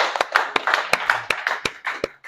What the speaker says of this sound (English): I want to give John a round of applause.